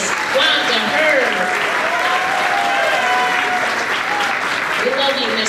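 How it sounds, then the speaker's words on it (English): At an elementary school kindergarten graduation ceremony, the crowd gives Miss Wanda Hurd continuous, loud applause, with whoops and excited voices mixed into the clapping throughout. "Let's give another big round of applause for Miss Wanda Hurd."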